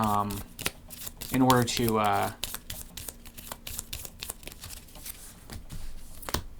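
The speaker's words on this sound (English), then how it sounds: "We shuffle this up and move on to the next round." A deck of cards for the Leviathan Wilds board game is shuffled close by, giving soft riffling and tapping bursts through the clip, while a person talks over the first part.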